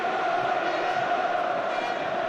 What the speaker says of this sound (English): as they show their appreciation, the crowd, for Roy Keane